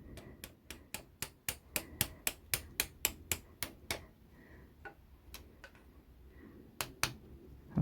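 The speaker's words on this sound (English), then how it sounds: "put this rubber part on this and then tap it with a little bit of a hammer" A run of sharp, evenly spaced hammer taps on a rubber part, about a dozen in quick rhythm, then a pause and a few scattered taps, close and fairly loud, while fitting an oil galley barbell.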